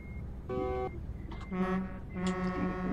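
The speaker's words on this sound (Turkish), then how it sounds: "Havalı korna." Truck air horns in Euro Truck Simulator 2 multiplayer, several loud tonal honks of different pitches, one short blast followed by two longer overlapping blasts, close and alone.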